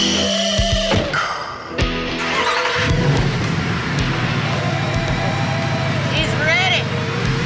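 A Mercedes SLS AMG sports car engine starts and settles into a deep, rumbling idle that grows steadily, heard from inside the cabin with people talking over it.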